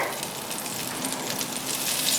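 Butter melting with olive oil in a pan, giving a steady, close sizzle and crackle throughout with no talking.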